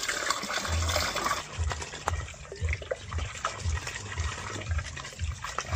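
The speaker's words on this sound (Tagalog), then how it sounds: "gumana na po yung ating water pump" Muddy brown water gushes from a newly built hand water pump, flowing and splashing in rhythmic pulses with each pump stroke, close and fairly loud outdoors.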